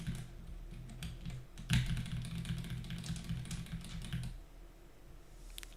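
Typing on a mechanical keyboard with the keycaps refitted produces a close, quick patter of clacking keystrokes that swells into a busier flurry and then stops, with a faint click near the end.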